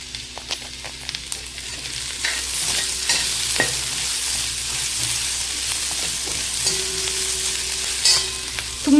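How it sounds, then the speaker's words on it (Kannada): Onions frying in ghee with a spoonful of ginger powder for a paneer Afghani gravy, giving a steady close sizzle with repeated spoon stirring and scraping against the pan throughout. "ಈರುಳ್ಳಿ ಹಾಕಿ ಚೆನ್ನಾಗಿ ಫ್ರೈ ಮಾಡಬೇಕು"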